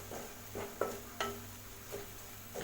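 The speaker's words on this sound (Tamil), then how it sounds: "இதே நல்லா வதக்கிட்டோம் எண்ணெயில்" Spices sautéing in oil in a pan, heard as a soft sizzle under repeated stirring scrapes and light clinks of a utensil against the pan, quiet and close.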